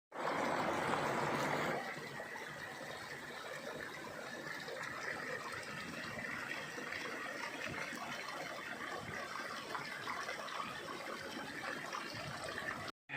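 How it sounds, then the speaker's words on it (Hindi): Small streams run across a Himalayan trail on the route to Pindari zero point, a steady rushing babble of water close by, louder for the first couple of seconds and then a constant softer flow. "ये छोटे छोटे नाले से आ रहे हैं रास्ते में।"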